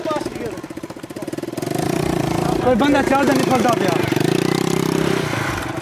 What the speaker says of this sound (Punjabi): ਮੋਟਰਸਾਈਕਲ